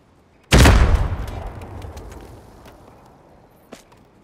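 One sudden heavy dynamite blast in Uncharted 4: A Thief's End rumbles and fades over about three seconds, followed by a faint click.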